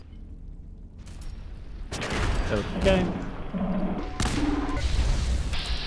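Gunfire and a big explosion in Fallout 4: a quiet start gives way to bursts of shots and heavy booms, loud and close, with a brief spoken word from a player.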